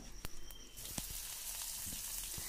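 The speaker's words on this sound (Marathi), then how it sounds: "जिरं व मोहरीचा चांगला तडतड आवाज यायला पाहिजे तेव्हा फोडणी छान बसते" Green chili paste drops into a hot oil tempering with cumin and mustard seeds, giving a steady, close, loud sizzle that crackles and spits throughout, with a few sharp pops near the start.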